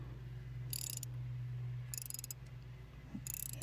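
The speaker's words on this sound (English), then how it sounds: "I'm going to use a 32mm socket to remove the oil filter" A ratchet with a 32mm socket clicks in three quick bursts while loosening the oil filter cap on a VW Golf GTI 2.0L turbo engine, close up over a steady low hum.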